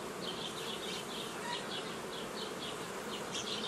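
Honey bees hum steadily at a beehive in an apiary, a dense, continuous buzz with a gently pulsing upper whine and no voices, close and even throughout.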